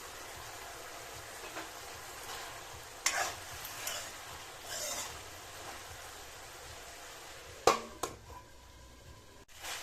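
Laai xaak mustard greens being stirred in a covered pan, with a few sharp utensil scrapes and clinks over a low, soft background hiss, fairly quiet with no talking.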